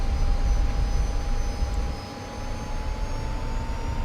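A 1951 F-86 Sabre's jet engine roars steadily as the aircraft taxis and turns onto the runway, a loud continuous rush with a thin high whine held throughout, close and unbroken.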